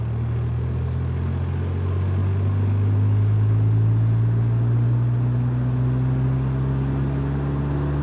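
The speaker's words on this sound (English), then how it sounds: "All right, this is like 1200 RPM. Here we go, accelerate slowly." A VW Golf Mk7 GTI with a South Bend Stage 2 Endurance clutch accelerates slowly from about 1200 RPM, its low engine drone steadily rising in pitch inside the car.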